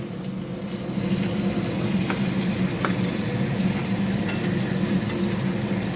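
Steady sizzling and bubbling in a pan as butter goes in while palak paneer cooks, a constant close frying hiss with a few faint clinks and no talk.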